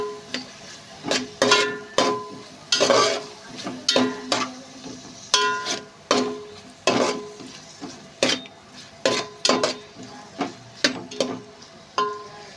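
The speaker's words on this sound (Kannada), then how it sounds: "ಟೊಮೆಟೊ ಇಟ್ಟು ಫ್ರೈ ಆಗೋದು" Tomatoes frying in a pan for tomato bath, heard as repeated rhythmic stirring scrapes and clinks against the pan over a low sizzle, close and fairly loud.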